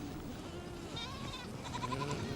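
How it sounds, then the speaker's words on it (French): Goats bleat in short, wavering calls during a morning gathering of the herd in Mongolia. The calls come over a steady, fairly loud background murmur. "À eux incombe le rassemblement matinal des chèvres."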